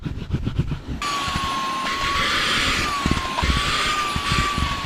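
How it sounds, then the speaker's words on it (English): A small vacuum cleaner switches on and runs with a steady whine and rushing airflow, its pitch wavering slightly as it moves. "so this little vacuum will have to do."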